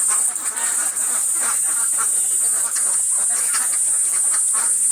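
Many ducks on a duck farm make a dense, loud chorus of overlapping quacks and clucks, busy and continuous from nearby, with no one talking.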